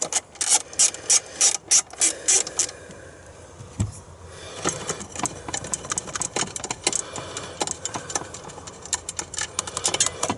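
A ratchet undoes a 10mm battery bracket bolt on a Porsche Cayenne Turbo 955: rapid, loud close-up clicking in repeated bursts, a brief pause with a thud partway through, then more steady ratcheting.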